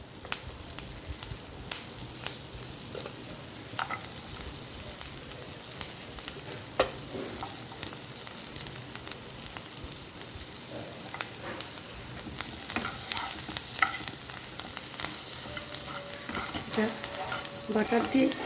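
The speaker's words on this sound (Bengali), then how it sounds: "বাটার দিয়ে রসুনটা ভাজা হবে" Chopped garlic and onion fry in butter in a pan, a steady close sizzle broken by scrapes and clinks of stirring, growing busier toward the end.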